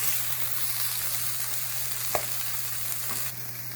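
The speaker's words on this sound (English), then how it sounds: "We're going to saute the green pepper, red pepper, the red onion, and the scallion." Green pepper, red pepper, red onion and scallion sauté in a hot pan with a constant crackling sizzle, punctuated by a couple of sharp stirring knocks near the end.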